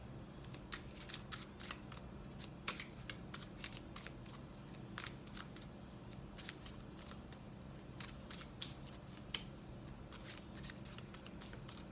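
Rapid riffling and soft snapping of playing cards being shuffled, repeated in quick bursts close by, with no talking.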